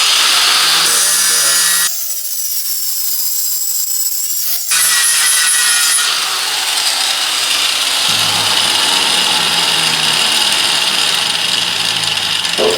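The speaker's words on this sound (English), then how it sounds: "I'm going to go ahead and grind this peening off" Loud, steady high-pitched grinder whine cutting the peened edge off a rusted screw on a 1939 Ford Carson top, in long continuous passes with a brief change in tone partway through.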